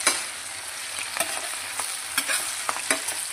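Curry leaves frying in hot oil for a bitter gourd masala give a steady, close sizzle with a few sharp crackles and pops, and no voices.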